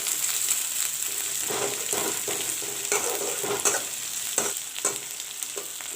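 Sliced onions and curry leaves fry in oil in a pan for masoor dal, a dense continuous sizzle up close with intermittent soft stirring scrapes throughout.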